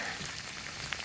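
Rain falls steadily during a rainstorm at a property, a faint, continuous hiss of drops with a few slightly louder patters and no voices.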